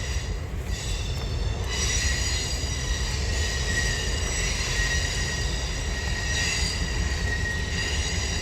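A train rolls past in wet outdoor weather, giving a loud, steady rumble and a high, sustained metal squeal from its wheels that lasts through the whole stretch.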